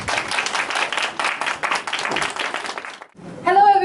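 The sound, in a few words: audience applause for lecturer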